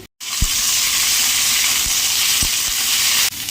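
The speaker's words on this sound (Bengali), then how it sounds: "আর এদিকে এই যে আলু ভাজা করে নিচ্ছি" Potatoes frying in hot oil in a pan for a village-style cauliflower and potato curry, a loud steady sizzle close by with a few faint knocks underneath.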